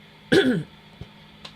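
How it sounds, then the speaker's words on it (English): A single raspy throat clearing from a woman sitting quietly doing cross-stitch, short and close, followed by two faint soft clicks in a still room. "Oh, I've got a frog in my throat"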